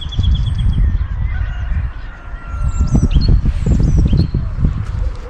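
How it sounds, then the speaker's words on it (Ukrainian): Birds chirp and call in short bursts over a loud, rumbling outdoor background in a rural village yard in spring, with honk-like fowl calls and roosters crowing mixed in. "чуєте, як співають птахи"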